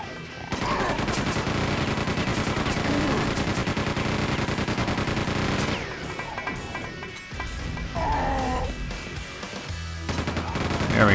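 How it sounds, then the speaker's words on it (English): In Quake 2 on the Xbox 360, a chain gun fires long, dense, unbroken bursts of rapid gunfire. A short pause comes before more bursts, and game effects sit underneath. "See if we can whip out the chain gun and take these guys out."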